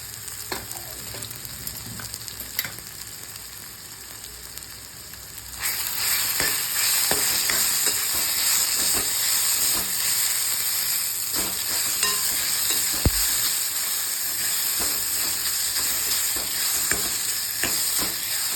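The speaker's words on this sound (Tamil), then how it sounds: "இப்போ அதே நெய்யில் இந்த சக்கரவள்ளி கிழங்கை வதக்கிக்கணும்." Sweet potato sautés in ghee in a pan for payasam; a soft sizzle becomes a louder, steady frying hiss after a few seconds, with occasional stirring knocks and scrapes and no voices.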